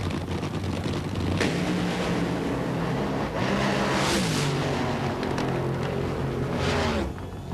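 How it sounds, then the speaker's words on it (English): Drag racing cars at the 1995 NHRA Autolite Nationals roar loud and close, engines screaming through acceleration with a throttle lift and a surge back on as the pitch climbs, sustained without a break. "Dean Scusa lifting, then getting back into the throttle because he was on the verge of the loss of traction"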